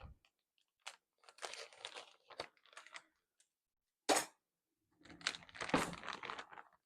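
Scissors snip and crinkle through a plastic package of grated mozzarella in a home kitchen, a series of brief, close crunchy cuts and rustles separated by short pauses.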